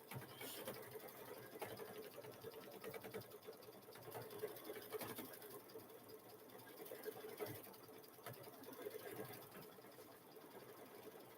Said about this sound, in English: It is stitching out so pretty